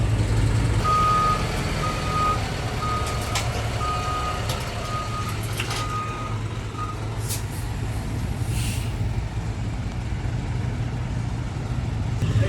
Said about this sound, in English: He keeps backing that truck up.